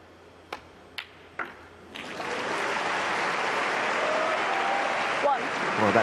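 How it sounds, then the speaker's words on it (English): Snooker fans in an arena at the World Grand Prix final break into sustained applause for Stuart Bingham after a few sharp ball clicks, the clapping swelling and holding steady while a commentator speaks over it. "can you hear the applause? There's a lot of Stuart Bingham fans in the house"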